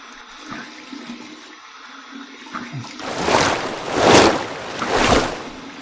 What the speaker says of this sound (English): Here's my cold water rinse.